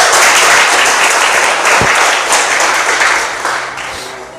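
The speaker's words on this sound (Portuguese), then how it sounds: "Uma salva de palmas para o nosso Senhor Jesus Cristo." A church congregation applauds together at a worship service, a dense, loud wash of clapping hands that holds steady and slowly tapers off, with no talk over it.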